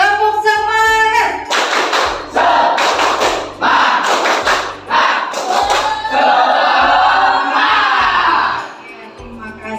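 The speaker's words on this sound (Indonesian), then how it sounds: "Tepuk semangat." A classroom of students performs a rhythmic 'tepuk semangat' clapping chant during a biology lesson, loud near bursts of hand claps and thumps in a repeating pattern, with voices shouting along between the claps.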